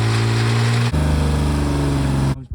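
A classic car engine, brought back after 20 years, runs close and loud with a rough, steady throb, stepping up in pitch partway through before cutting off.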